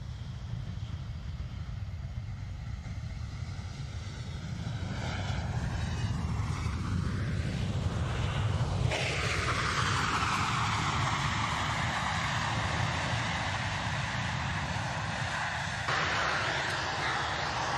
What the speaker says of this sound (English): Now the crew will demonstrate the very short landing distance of this steadfast airlifter